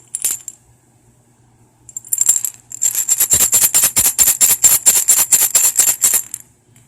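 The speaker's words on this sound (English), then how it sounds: "I have 3 rattles here with a burlap texture done with the Amaco" A handmade ceramic aromatherapy rattle with a burlap texture, shaken close up: a brief jingle, a short burst, then a rapid rhythmic run of bright clinking rattles, loud and alone with no voices.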